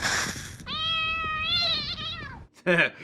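A cartoonish cat yowls in a slapstick kids' monster-movie gag after being burned, one long rising-and-falling wail that breaks off, followed by a short second squawk, loud and close.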